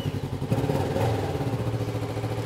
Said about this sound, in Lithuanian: Kol birbenasi motociklas